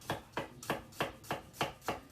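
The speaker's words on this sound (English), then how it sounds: "Now I want to now finally chop my garlic" Garlic being chopped with a knife on a board, seven crisp, evenly spaced knife strikes in a quick steady rhythm, close and clear with no talking.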